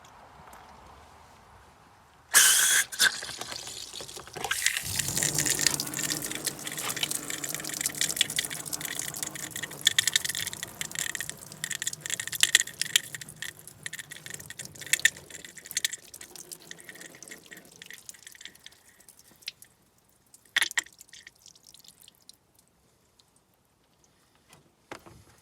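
Coolant water gushing violently from a leaking hose on a Ford Escort cooling system after a refill, a sudden loud splashing spray that runs for many seconds, then tapers into scattered drips and trickles.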